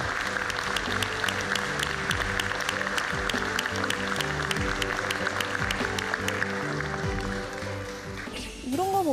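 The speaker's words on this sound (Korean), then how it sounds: "우리 모두 한번 우리 김한길 위원장님과 위원님들께 박수 한번." Applause for committee chairman Kim Han-gil and his members: steady, sustained clapping over a bed of music throughout, with the ovation briefly softening near the end.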